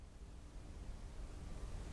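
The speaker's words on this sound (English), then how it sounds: "I hear water roaring." Water roars through pipes in the video game Blue Prince: a steady, dense rushing wash that holds constant for two seconds, with no voices over it.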